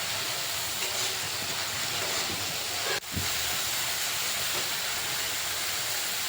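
Mixed spice paste sizzling in a pan for a vegetarian pointed gourd curry, giving a steady, loud, broad hiss with one brief knock partway through and no voices.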